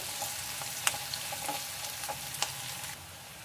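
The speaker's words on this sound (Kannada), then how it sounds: "ಎಲ್ಲನೂ ಸ್ವಲ್ಪ ಗೋಲ್ಡನ್ ಬ್ರೌನ್ ಬರೋವರೆಗೂ ಚೆನ್ನಾಗಿ ಫ್ರೈ ಮಾಡ್ಕೊಳ್ಳಿ" Cinnamon and cloves frying in hot oil in a pan for a spicy country-style mutton curry, a steady soft sizzle with occasional light clinks and scrapes of a stirring spoon, close and moderately quiet.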